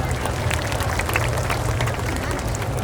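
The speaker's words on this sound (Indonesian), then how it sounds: "Tepuk tangan, terima kasih" An audience at a Ramadan gathering in Cirebon applauds, a dense, steady patter of many hands clapping with crowd murmur underneath, loud and continuous.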